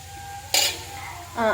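Spoon scraping and clinking against a pan while beetroot and carrot are stirred over a low flame, two short sharp metallic scrapes separated by a quiet gap.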